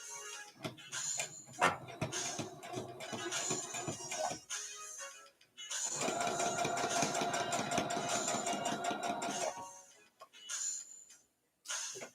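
A home sewing machine stitches darts in a dress bodice in two long running bursts separated by brief pauses, a close mechanical whirring hum with short stops and starts.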